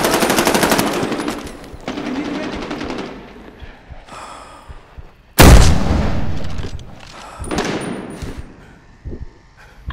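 Close, loud bursts of rapid gunfire and single heavy sniper shots in Medal of Honor Warfighter, with a sharp booming blast midway and scattered shots trailing off.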